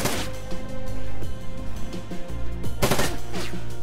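Turrets firing in the video game Shadowrun Dragonfall, a loud rapid stream of automatic shots over a low musical backdrop, with a harsher burst near the end.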